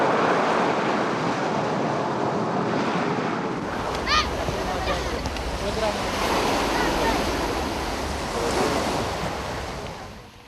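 Sea waves wash steadily onto the sand and big white pebbles of Hiliadou beach on Evia, a continuous roar of surf with gusts of wind buffeting the microphone, loud and close throughout.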